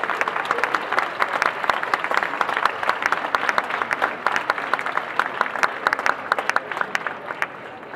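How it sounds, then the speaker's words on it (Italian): Sustained applause from an audience at an international folklore festival in Tagliacozzo, Italy, dense steady clapping filling the whole stretch without pause. "Chiedo veramente un caloroso applauso."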